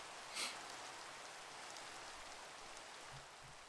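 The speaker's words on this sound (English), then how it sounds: "If it keeps raining, those mobs aren't gonna burn." Steady rain from Minecraft during a UHC match, a soft continuous hiss of falling drops with a brief louder patch near the start, faint and even throughout with no voices.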